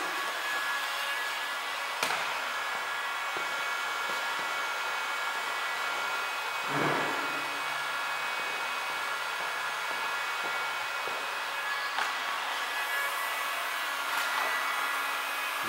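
A heat gun blows a steady, even whoosh of hot air, post-heating 3M vinyl wrap on a car side mirror, running continuously and close by with a few faint knocks.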